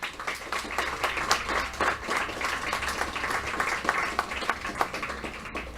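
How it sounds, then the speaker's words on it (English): Audience clapping at a mind sports championship victory ceremony, a brief round of moderately loud applause from a modest crowd with fairly distinct individual claps. "So let's give him also a big round of applause."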